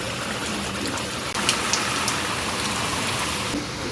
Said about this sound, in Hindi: इतनी तेज बारिश हो रही